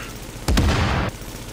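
A burst of gunfire in The Division, a single loud volley lasting about half a second with a sharp onset, alone with no voices.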